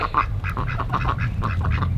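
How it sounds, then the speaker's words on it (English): Rapid, continuous soft quacking and peeping from a small group of young ducks nearby, overlapping calls without pause. "had the baby ducks out here for about a week."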